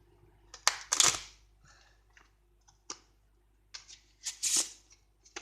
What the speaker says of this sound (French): je prends le paquet numéro 2 et le paquet numéro 4 et je vais les mélanger ensemble